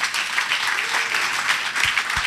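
A church congregation claps together in loud, sustained applause throughout, steady and dense, with a couple of low thumps near the end.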